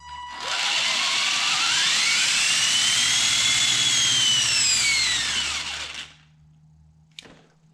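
An RC monster truck's electric motor winds up under throttle, a loud rising whine that holds for several seconds, sweeps in pitch, then cuts off abruptly, followed by a brief click.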